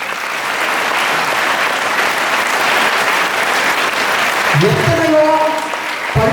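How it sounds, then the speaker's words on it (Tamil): Applause from a hall full of schoolboys at a Kamarajar birthday celebration at Don Bosco school, loud steady clapping throughout, with a speaker's voice starting up over it near the end. "கைத்தட்டல்களுடன்."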